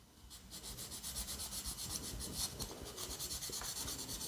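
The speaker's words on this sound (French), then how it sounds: "je n'ai plus qu'à poncer ensuite avec une éponge à poncer" Model plane filler is sanded with a fine 3M sanding sponge, a quick rhythmic rasping of strokes back and forth, close and fairly quiet with no talking.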